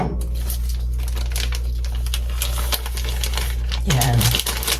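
Scissors snipping through butter packaging in a home kitchen, crinkly cutting and rustling at close range over a constant low hum, with a short voiced sound near the end.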